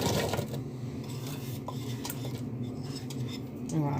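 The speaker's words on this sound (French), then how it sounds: "on met un peu d'huile d'olive dans une casserole. On y ajoute nos oignons" Chopped onions go into olive oil in a saucepan, with clattering of metal pan and utensils, scraping and stirring, and a rising sizzle near the end.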